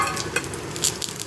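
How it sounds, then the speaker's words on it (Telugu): Garlic cloves frying in hot oil as a tempering for a village-style dry prawn curry, a steady close sizzle with light stirring scrapes throughout, no voices. "చూసారా, ఇవి వేగిపోయినాయి. తాలింపు వేగిపోయింది."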